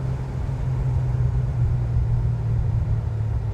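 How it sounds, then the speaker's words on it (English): A 1969 Iso Rivola engine with a four-barrel carburetor rumbles steadily with a deep, even idle-to-cruise drone, close and continuous without any talking. "4-barrel carb really sounds good."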